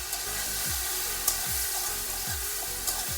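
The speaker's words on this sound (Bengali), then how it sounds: "কষিয়ে নিচ্ছি যাতে টমেটোটা একটু গলে যায় আর মশলাটাও একটু ভাজা হয়ে যায়" Tomato, salt and ground cumin sizzle steadily in a hot pan for a Bengali drumstick curry, with a spatula scraping through the mixture at regular intervals, close and continuous.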